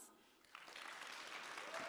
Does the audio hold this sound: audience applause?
yes